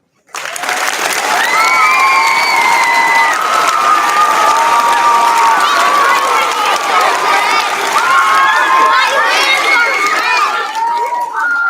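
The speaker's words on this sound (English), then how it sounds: "a round of applause" A school assembly audience applauds loudly and continuously for about eleven seconds, with cheers and children's shouts rising through the clapping.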